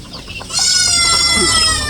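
A goat bleats in a drawn-out, wavering cry that rises and holds, close by, after a brief moment of quieter farmyard noise in Negros, Philippines.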